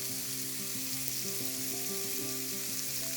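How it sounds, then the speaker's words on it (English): Mustard seeds and onions fry in hot oil for an eggplant and curd dish, giving a steady, close sizzle with faint crackles and no talking. "when the mustard seed starts popping, you can add half chopped red onions to this"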